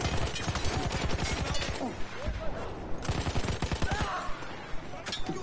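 Rapid bursts of automatic gunfire from a weapon in the Battlefield 1 video game, loud and close, rattling in several clusters separated by short pauses.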